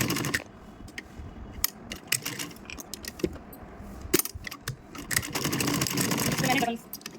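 A home sewing machine runs in short bursts, then a longer steady run, while double-stitching a small jacket for a Bal Gopal doll. Clicks and handling noises come between the bursts, and the camera sits on the machine.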